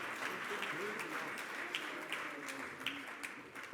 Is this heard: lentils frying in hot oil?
no